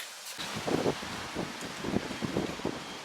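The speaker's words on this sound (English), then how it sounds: "Yes, it is windy." Steady wind gusting and buffeting the microphone at dusk by a turtle pond, with rustling noise rising and falling in irregular surges throughout.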